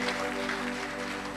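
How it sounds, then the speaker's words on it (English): Church congregation clapping during a sermon, a dense, steady patter of hands over a sustained organ or keyboard drone. "Clap for God Almighty."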